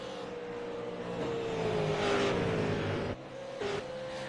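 Race cars run on track in a sim racing game, engines droning as one holds a steady tone and then shifts, with a brief dip and a rise as another car passes at moderate volume; no talk.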